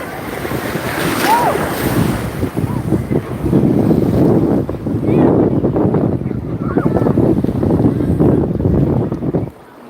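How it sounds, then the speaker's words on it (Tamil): Sea waves surging and splashing at Tiruchendur beach during a full-moon sunrise, a continuous loud wash of surf with heavy wind buffeting close to the microphone. "மொபைல தண்ணி போடுது"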